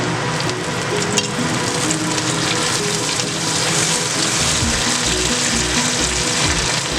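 Curry leaves sizzling in hot oil in a pan, a steady loud crackling fry with bursts of spitting and popping throughout.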